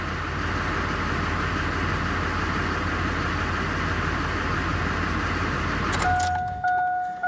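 A Duramax LB7 diesel pickup engine idles steadily after an injector swap, with a loud, even rumble that fills the clip; near the end the engine note drops away and faint tones and a clatter follow.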